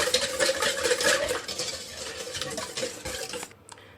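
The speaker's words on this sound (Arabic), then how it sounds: "غادي نطرب هادشي مزيان." Cake batter with oil is whisked in a bowl, giving a steady, close, scraping and swishing rhythm that eases off and stops near the end.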